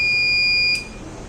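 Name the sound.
alarm buzzer of SCADA industrial fencing system on high current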